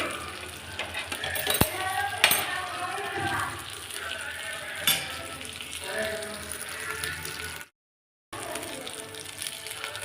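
Fish sizzling as it fries in a pan on a gas stove, a steady hiss with occasional clinks of a utensil, someone talking over it and a brief dropout near the end.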